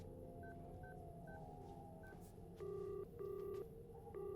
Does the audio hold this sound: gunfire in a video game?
no